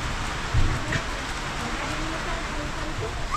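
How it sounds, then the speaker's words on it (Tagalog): Steady rain falls in a continuous, even hiss, with a brief low thump near the start and no voices. "Ulan, ulan, ulan."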